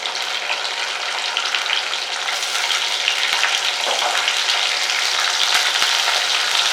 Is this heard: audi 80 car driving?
no